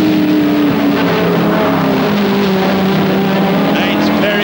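Saloon racing cars, including a Chevrolet Camaro, roaring around the tight Crystal Palace circuit in 1971, a loud sustained engine drone with shifting pitch as commentary talks over it throughout.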